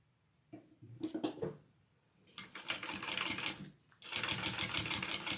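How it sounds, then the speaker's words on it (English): A sewing machine sews a seam on a bag, first in a few short stop-start stitches, then in two longer runs of fast, close, chattering stitching. "now I'm going to sew along this at my seam allowance"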